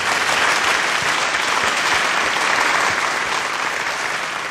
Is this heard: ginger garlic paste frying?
no